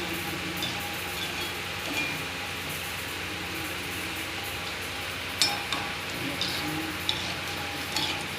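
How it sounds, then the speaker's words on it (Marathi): Gulab jamun dumplings fry slowly in oil over a low flame, a steady gentle sizzle with occasional louder pops and clinks of utensils near the end. "आता स्लो गॅसवरती मी हे सगळे तळून घेते।"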